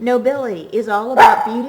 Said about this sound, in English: That's my dog's opinion.